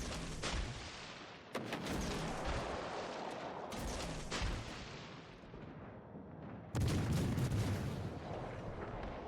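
Naval guns firing in World of Warships: Legends, with several heavy booming volleys in quick succession. A loud salvo near the seven-second mark stands out from the rest, and each blast has a rumbling tail.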